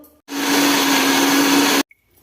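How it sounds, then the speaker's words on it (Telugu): A kitchen mixer grinder whirs loudly for about a second and a half, grinding onions into a paste without any water, then abruptly stops. "ఇప్పుడు నేను ఉల్లిపాయలు మిక్సీ పట్టుకుంటున్నాను."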